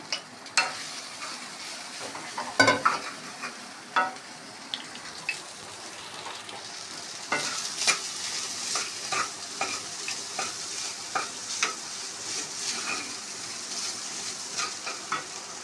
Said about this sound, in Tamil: சாதத்தில் போட்டு நல்லா மிக்ஸ் பண்ணிட்டோன்னா பொன்னி சப்பாத் ரெடி ஆகிடும்